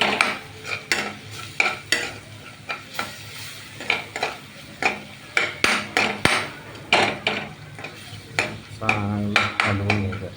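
Turmeric and spices cooked in a pan are stirred with a utensil, producing rhythmic scraping strokes and metallic knocks over a constant sizzle, close and fairly loud throughout.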